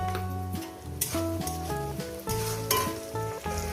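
Onions frying in a pan with salt, for a brinjal and dried-fish mash, give a steady close sizzle with bright crackle, overlaid by strong sustained tonal music throughout.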